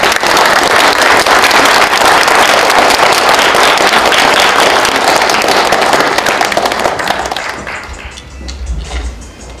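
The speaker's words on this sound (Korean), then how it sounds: "여러분 박수를 좀 받으십시오" Dense, loud applause from an audience at a seminar and book presentation in a Korean foundation hall, a steady wash of clapping for about seven seconds before it thins and fades out.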